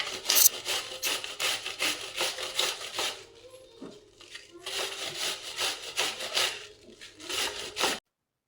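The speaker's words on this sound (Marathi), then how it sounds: "त्यासाठी पहिले पत्ताकोबी घ्यायची, त्याला छान किसून घ्यायचं. मीडियमवाली किसणी घ्यायची" Cabbage grated by hand on a medium grater, rapid rhythmic scraping strokes at close range, with a brief pause midway before the strokes resume, no talk.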